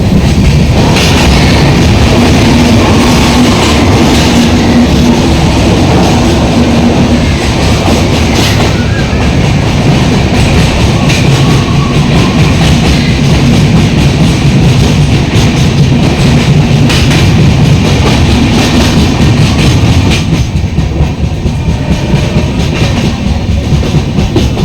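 The Kirandul train running, heard from inside a carriage on the return trip toward Vizag: a loud, continuous rumble with rhythmic clickety-clack of wheels over rail joints and occasional faint squeals, with no talk.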